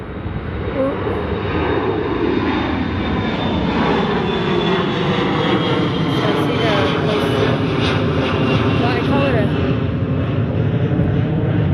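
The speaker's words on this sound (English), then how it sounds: "here comes another plane" Propeller airplane passing low overhead near the former Naval Training Center in San Diego, a loud, continuous engine drone with a droning pitch shift, while a voice talks beneath it.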